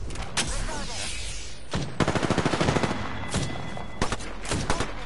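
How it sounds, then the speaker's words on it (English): Bursts of rapid automatic gunfire in Apex Legends, with a dense rattling volley near the middle and several single sharp shots before and after, loud and close over steady game noise. "Shots fired. And they're hitting me."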